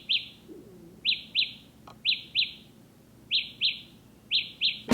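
The earbud finder on Galaxy Buds Plus earbuds, triggered from the companion app, gives repeated bright, bird-like electronic chirps. They come in quick pairs and triplets with short gaps, loud and clear over a quiet background.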